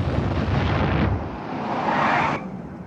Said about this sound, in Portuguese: Parece que foi uma explosão